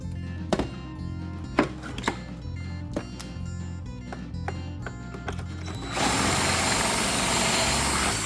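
Sharp clicks and knocks of tools on cedar fence planks, then a steady loud drill whir starts, drilling pocket holes, and runs to the end.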